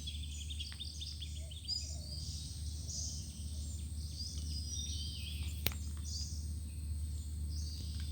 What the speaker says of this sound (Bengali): মাঝে মাঝে পাখির ডাকও শোনা যাচ্ছে।